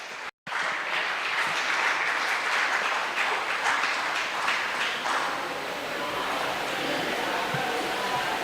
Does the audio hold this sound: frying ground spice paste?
no